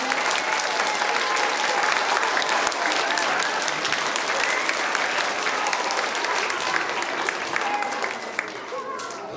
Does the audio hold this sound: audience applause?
yes